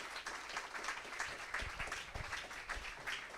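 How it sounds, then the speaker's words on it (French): Audience applause at the close of a conference round table on customer experience and AI, a steady wash of many hands clapping filling the room at moderate level, with no talk over it. "On peut applaudir nos bêta-testeurs."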